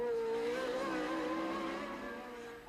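Formula 1 race cars at the 1981 Monaco Grand Prix, a high engine whine holding steady pitch then slowly fading as the cars pull away, heard from a distance.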